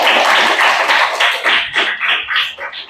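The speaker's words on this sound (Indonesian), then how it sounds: "Tepuk tangan untuk kita semua" A primary school class claps hands together in a classroom, a loud, close burst of irregular clapping that thins into scattered claps toward the end.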